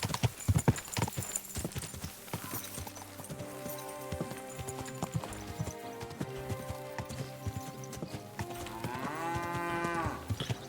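Cattle mooing in the medieval open-world game Kingdom Come Deliverance 2, several low drawn-out moos rising over clip-clopping horse hooves and background game music, moderately distant with no talk.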